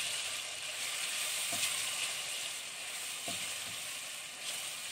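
Onion frying in a pan with half a spoon of sugar, a steady sizzling hiss with a few soft scrapes of stirring, close and moderately loud, no talking.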